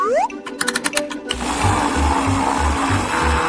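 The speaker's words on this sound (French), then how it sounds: "Je vais mixer le tout." A blender whirs loudly, mixing ice cream, vanilla, butter and cheese. Some short beeps come first, then the motor starts and runs steadily with a pulsing low rhythm, close by.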